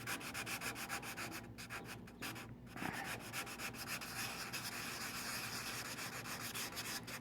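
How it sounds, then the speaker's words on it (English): 180-grit sandpaper rubs back and forth over the metal body of a 1967 Impala or 1970 Chevy C10, a steady rhythmic scratchy hiss that continues close and even throughout. "some 180 sandpaper, and just gently went over the system there"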